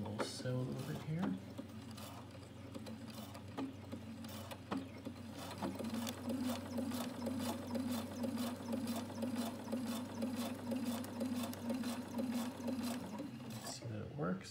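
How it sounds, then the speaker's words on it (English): A Viking Husqvarna Quilt Designer I sewing machine stitches steadily, its fast mechanical needle rhythm running for about twelve seconds between quieter clicks at the start and end. "we'll sew a little bit here"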